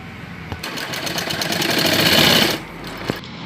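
A sewing machine stitches a seam along both sides of a skirt fabric, a close, rapid mechanical whir that builds to a steady run and then stops, with a click at each end.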